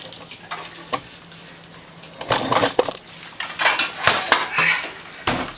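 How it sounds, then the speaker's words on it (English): Metal pots and pans clatter and clank as a pot lid is pulled out from among them, a burst of close, loud metallic knocks and scrapes after a quieter stretch, ending in a sharp clang. "but I needed to get a pot lid out"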